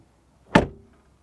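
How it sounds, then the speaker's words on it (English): A Mercedes-Benz GLC car door swings shut with one solid, muffled thunk, heard close and alone with a short fading tail. "And door closing sound,"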